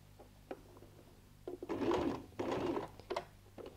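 A sewing machine stitching fabric, with two bursts of rapid mechanical whirring close by, each lasting about half a second to a second, and light clicks between them in a quiet room.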